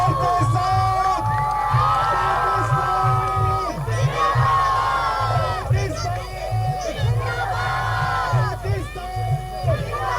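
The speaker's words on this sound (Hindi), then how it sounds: "जोरदार तालियों और आवाजों के साथ और जोर के साथ" A crowd at a national flag painting ceremony for Pakistan's 75th Independence Day cheers and shouts loudly in rhythmic, chant-like bursts, with many voices rising and falling together.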